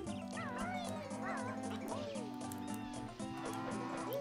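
A house cat meows repeatedly indoors, several short rising calls over a steady background hum, with people talking nearby.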